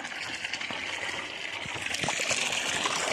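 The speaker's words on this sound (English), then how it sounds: "You watering the plants?" Water splashing and trickling steadily from plants being watered outdoors, a continuous close wash of liquid sound with small spatters and no talk.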